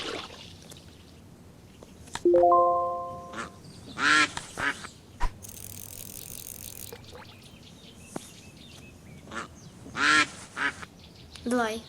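A duck quacks in several loud, raspy bursts spread across the clip, near the microphone, with people talking and other noises in between, at a fishing spot.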